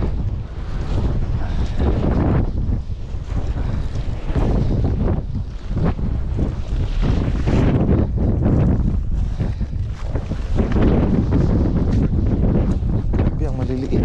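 Strong wind at sea buffets the microphone in loud, gusty roars during a fishing trip, with water sounds and muffled voices underneath.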